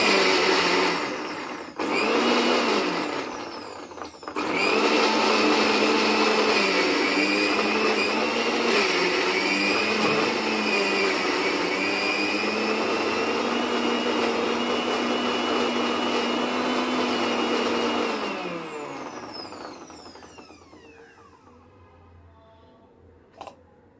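A Bajaj mixer grinder grinding unchopped ginger, a loud high-pitched motor whine after two short bursts, running steadily for about fifteen seconds before winding down and stopping.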